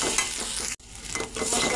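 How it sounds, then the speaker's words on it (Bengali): A spice paste with turmeric powder is stir-fried in a pan for a taro-leaf and hilsa dish. Close scraping and stirring run over a steady sizzle, broken by one brief silent gap midway. "আবার মশলাটা ভালো করে কষিয়ে নেব।"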